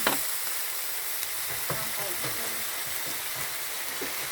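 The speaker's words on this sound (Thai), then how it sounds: "คนคลุกเคล้าเข้ากัน" A large pot of pumpkin, chicken and coconut curry is stirred, giving a steady bubbling sizzle with soft scraping strokes throughout, close and moderately loud.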